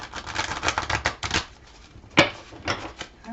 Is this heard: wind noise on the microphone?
no